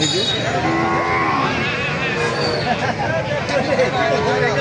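Several cattle moo loudly and repeatedly over a busy background of crowd chatter at a weekly cattle market in Thakurgaon, Bangladesh.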